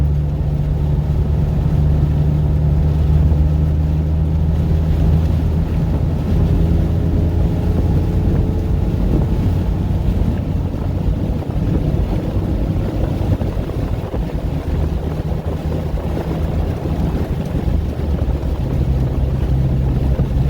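Steady low rumble from a Jeep JK with an AFE Scorpion exhaust in fourth gear at about 82 mph, road drone and heavy wind buffeting over it, continuous and fairly loud throughout.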